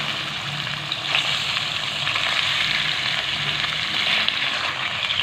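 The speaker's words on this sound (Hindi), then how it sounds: "सबसे पहले कढ़ाई में हम 2 टेबलस्पून ऑयल डालेंगे और उसमें चिकन फ्राई कर लेंगे 3 से 4 मिनट के लिए।" Chicken pieces fry in two tablespoons of oil in a kadai, giving a loud, continuous sizzle with light stirring noises and no talking.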